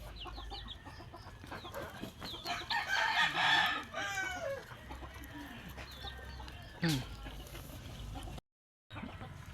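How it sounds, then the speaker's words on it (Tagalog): Chickens cluck and a rooster calls in a farmyard, with bursts of busy bird chatter and some background noise; a brief dropout near the end. "Timpa ni hapon na manggudpod sa manok guys"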